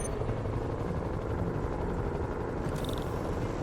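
A video game helicopter's dense, rumbling rotor thrum holds steadily throughout, close and loud, with a brief high-pitched whine near the end.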